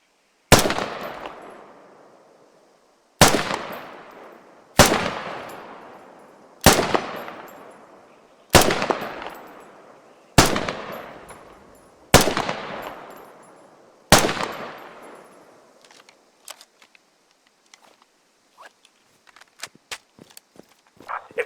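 Heavy weapon fire in the military shooter game Squad: eight sharp, booming single shots at roughly regular intervals, each ringing out with a decaying tail, followed by faint scattered distant pops and clicks.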